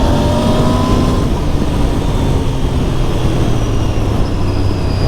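Royal Enfield Bear 650 motorcycle engine held under hard throttle, a loud, steady droning roar with a rising tonal whine, close and continuous for the whole stretch.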